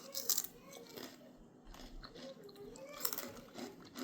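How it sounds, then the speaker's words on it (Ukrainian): Crisp, close crunching comes from bites of a healthy strawberry snack, with several sharp crackly bursts spaced irregularly and quiet talk in between. "Як хрумає, чуєте?"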